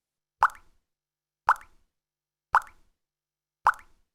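A shark's biting sound effect in a Scratch coding project plays four times, each a short, sharp, identical chomp spaced about a second apart, with silence between and no talking.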